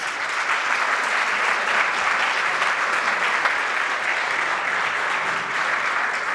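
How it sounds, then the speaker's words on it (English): A full room claps at a gala dinner award, a dense, even wash of applause held at steady loudness throughout with no pause. "we can do another round of applause"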